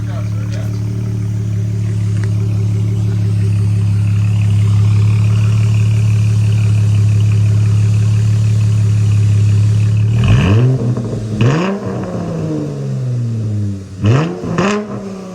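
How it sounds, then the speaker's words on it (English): Engine of an Infiniti Q50S idling steadily, then revved hard three times near the end, each rev rising sharply and falling back, loud and close. "Get the people some revs real quick."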